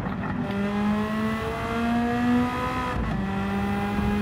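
A Nissan Skyline Super Silhouette '84 race car engine in Gran Turismo 7 revs steadily, a sustained droning whine with pitch rising and falling, loud and close, with a brief dip before climbing again.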